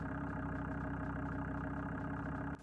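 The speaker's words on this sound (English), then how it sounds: "how it sounds with the idle from stock, because the stock idle does sound pretty cool" A stock Audi TT RS in Forza Horizon 5 idles with a steady, rhythmic five-cylinder burble, close and even, cutting off abruptly near the end.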